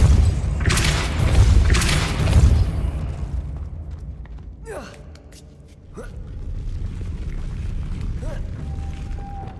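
A Depulso force spell in Hogwarts Legacy lands as two heavy, booming thuds close together, followed by a quieter stretch of whooshing magical effects and faint mechanical creaks.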